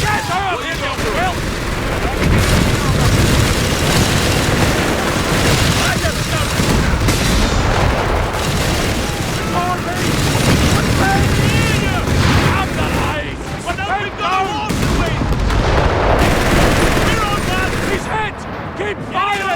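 Heavy gunfire, machine-gun bursts, artillery and explosions from the World War II strategy game Company of Heroes 3, a dense, continuous barrage of booms and rattling shots with shouted soldier voices mixed throughout.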